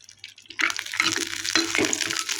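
Cashews frying in ghee for payasam, a soft bubbling sizzle that starts after a brief quiet moment and continues steadily with light stirring scrapes, close and moderately loud.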